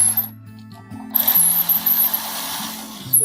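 A screwdriver drives screws into an electrical receptacle, giving a close, steady mechanical whir with low tonal humming and a brighter scraping burst partway through.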